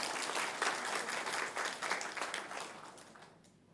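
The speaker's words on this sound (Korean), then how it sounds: "큰 박수 한번 주시겠습니까?" A church congregation's applause during a Sunday service, dense and steady for a few seconds before fading out at the end.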